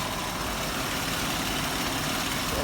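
Ford Explorer with an overheating problem idles while its electric cooling fan for the AC condenser runs, making a steady, loud, unbroken whooshing hum from up close with no talking.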